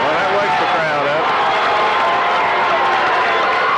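A high school basketball crowd roaring in a gym after a foul call, a dense, loud wall of cheering and clapping that holds steady throughout.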